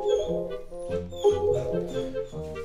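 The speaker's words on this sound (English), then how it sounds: "That is my dog." A dog in The Legend of Zelda: Wind Waker gives a run of short yips and whimpering barks in quick succession, close and clear, with no voices over it.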